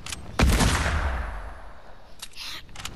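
A single sharp gunshot blast from the video game Fortnite, loud and close, with a long reverberant tail fading over a couple of seconds, followed by faint clicks.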